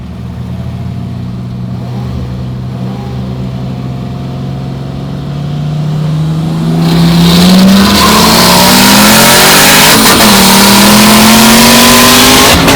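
Turbocharged Ecotec V6 Holden Commodore in a roll race. The engine drones steadily, then builds into a loud, rising pull with a distinct upshift partway through, heard close from inside the car.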